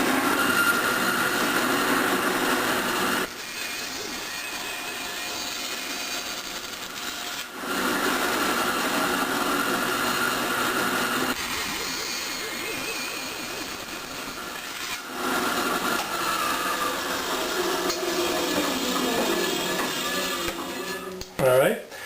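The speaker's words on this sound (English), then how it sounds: "And I'm going to start up my bandsaw. And I'm going to cut in to that line." A bandsaw cuts wood along a marked line while making a circle jig, a steady continuous buzzing rasp in three long sections separated by brief pauses, close and fairly loud.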